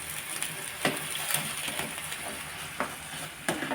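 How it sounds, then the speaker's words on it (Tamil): Karupatti bread halwa simmers and bubbles softly on a low flame while a spoon stirs it, scraping the pan in occasional sharp strokes over a continuous gentle sizzle, close up with no talking. "நல்லா ஒரு கிண்டி விட்டுட்டு அப்படியே லோ ஃப்ளேமில் கொஞ்சம் கொதிக்கட்டும்"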